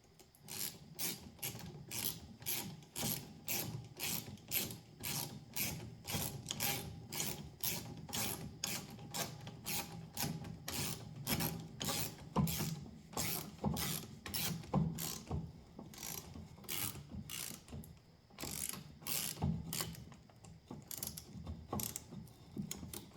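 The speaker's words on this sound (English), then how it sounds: "the multi-tool ratchet" A multi-tool ratchet turned steadily in a long run of rapid, even clicks, close and fairly loud, with no talking over it.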